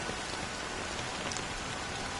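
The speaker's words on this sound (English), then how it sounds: "it's still raining." Steady rain falls in the Honkai: Star Rail game world, a dense, even hiss of drops heard alone at a constant moderate level.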